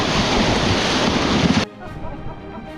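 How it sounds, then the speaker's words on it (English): Big ocean waves crash during the swim leg of an adventure race, a loud, rushing roar of surf and wind that cuts off suddenly, leaving quieter water noise. "the waves are big and bashy"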